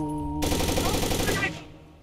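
Rapid automatic gunfire in the first-person shooter Takedown: Red Sabre, a loud dense burst of about a second cutting in over a steady game hum, then fading quickly.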